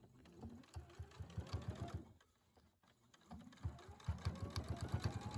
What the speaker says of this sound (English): then sew in as straight a line as possible along the outer edge